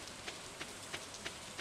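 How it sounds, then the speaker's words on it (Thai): Rain falls in the Stardew Valley video game as a faint, steady patter with soft, regular ticks of drops on a surface, heard alone without voices. "เพราะว่าฝนตกเนาะน่าจะหยุดนะครับ"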